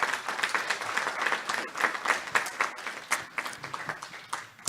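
A crowd applauds at a National Women & Girls HIV/AIDS Awareness Day event, sustained clapping with fluctuating intensity, moderately loud and tapering slightly toward the end.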